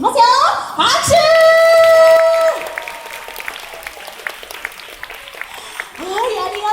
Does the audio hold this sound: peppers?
no